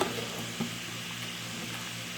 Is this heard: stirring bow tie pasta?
yes